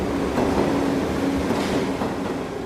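A New York subway train rolls along the track, a loud, steady rumble with rhythmic wheel clatter and a faint metallic whine, sustained close by for the whole span.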